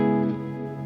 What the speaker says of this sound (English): it's a much longer tail of reverb there